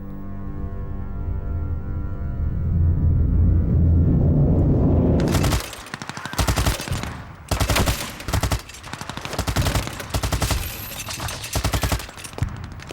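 WWI Somme battle reenactment: after a low sustained droning opening, loud bursts of German machine gun fire and artillery crack out in rapid, repeated volleys, close and harsh, with no speech.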